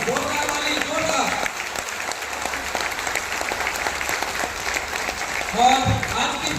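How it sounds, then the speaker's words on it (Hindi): A crowd at a product launch event in Dhanbad applauds steadily and loudly throughout, with a host's voice speaking over the clapping near the start and again near the end. "एक बार जोरदार ताली हो जाए सभी लोग, जोरदार ताली, जोरदार ताली"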